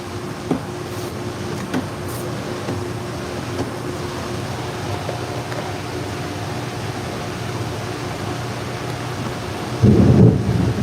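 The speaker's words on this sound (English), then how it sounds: "Man, that thunder just keeps coming and coming." Low, steady rumble of rolling thunder fills the background, with a louder deeper burst near the end; no voices.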